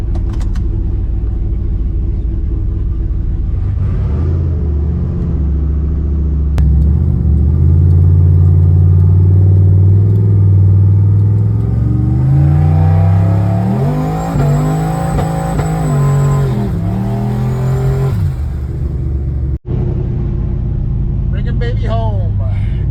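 A 1973 Pontiac Ventura fitted with a turbo kit drives on the road: a loud, rumbling engine rises and falls through gear changes, with a faint high turbo whine partway through.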